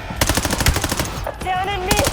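Rapid automatic gunfire in the video game Call of Duty Black Ops 7, a fast, close burst of shots followed by tonal game sound effects.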